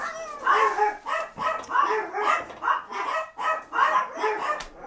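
Chihuahuas barking in a steady run of rhythmic, high yappy barks, close and fairly loud, with no talk over them.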